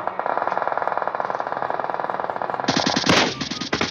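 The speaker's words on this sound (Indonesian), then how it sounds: "Nah, dia nembak aku pasti." Rapid automatic gunfire in the mobile battle-royale game PUBG Mobile, a loud, fast, evenly spaced stream of shots that continues throughout, joined near the end by a denser, harsher burst of fire.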